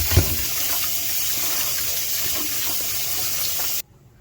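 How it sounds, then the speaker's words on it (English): Potatoes are washed under a running tap, water gushing steadily and loudly into a sink for several seconds before cutting off abruptly. "Now I'm gonna wash the potatoes."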